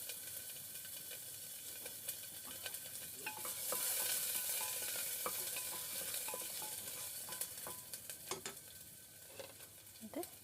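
Chopped ginger and garlic sizzle and fry in a pan, a soft continuous hiss with scattered stirring clicks and scrapes, fairly quiet and close, with no voices.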